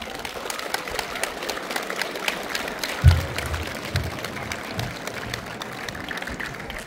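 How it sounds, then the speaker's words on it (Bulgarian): Audience applause at a school graduation send-off ceremony for the class of 2025, a steady wash of many hands clapping throughout, fairly loud and continuous with a brief louder thump near the middle. "Аплодисменти за директора ни!"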